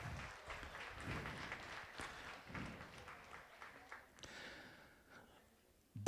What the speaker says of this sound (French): une bonne main d'applaudissement encore pour la Maison des jeunes du Témiscamingue